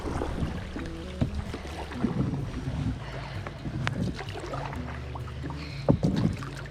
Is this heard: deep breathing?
no